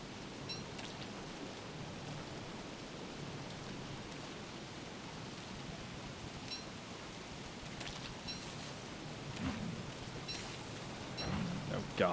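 Rain falls in the video game Don't Starve as a steady, even hiss that fills the background throughout, with a few faint sounds scattered on top.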